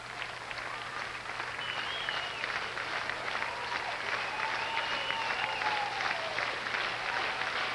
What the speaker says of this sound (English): And the crowd with the rhythmic clap